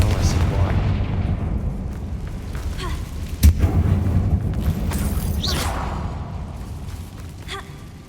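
A Confringo blasting spell detonates inside a mine in Hogwarts Legacy, one sharp explosive boom midway through a low rumbling background, followed by debris-like crackles and a fading tail.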